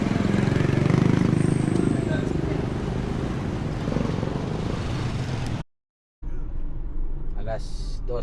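Motorcycles and other vehicles pass in heavy town traffic in Arayat, Philippines, a continuous close engine drone that dips briefly into a short silent dropout before resuming more faintly.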